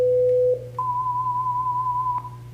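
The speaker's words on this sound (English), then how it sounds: "Tones." Pure sine tones used as a demonstration of a simple sound: a steady mid tone lasting about half a second, a short gap, then a longer, higher steady tone held for about 1.4 seconds, alone over a low background hum.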